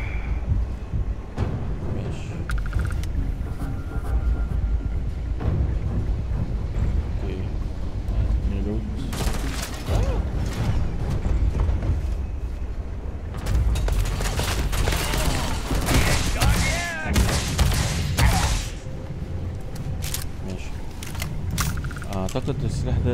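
An energy weapon in the video game Starfield fires in clustered bursts of sharp zaps and blasts, mid-distance and fairly loud, while someone talks over and between the shots.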